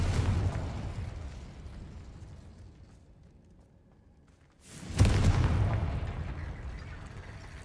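A Confringo blasting spell explodes in Hogwarts Legacy, a heavy rumbling blast that fades into quiet before a second loud boom erupts and rolls on, decaying slowly.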